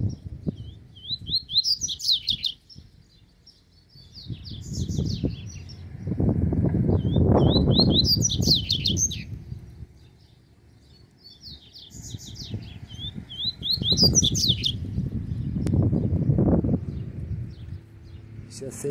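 A double-collared seedeater sings in repeated bright, rapid phrases from the top of a cage, with people talking in the foreground between and under the song.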